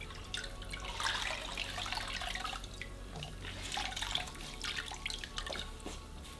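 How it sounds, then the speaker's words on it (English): Water drips and trickles as a wet cold towel is wrung out, a close, continuous splashing patter that swells and eases over several seconds. "you're going to go ahead and wring out that cold towel"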